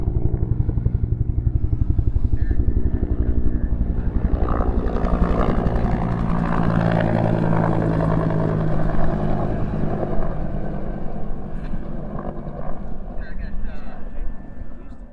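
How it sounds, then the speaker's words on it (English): A helicopter carrying a water-filled Bambi bucket, dipped from Lake George, flies toward a fire, its rotor a steady throbbing drone heard from a distance beneath someone talking throughout. "They got a Bambi bucket underneath the helicopter just dipped there in Lake George."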